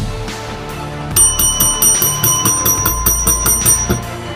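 A bright bell rings in a quick series of repeated dings, clear and close, after a short stretch of softer background tones.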